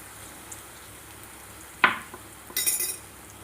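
Ivy gourd (dondakaya) frying in a pan, a faint steady sizzle broken by one sharp utensil clink, then a brief louder burst of hissing near the end.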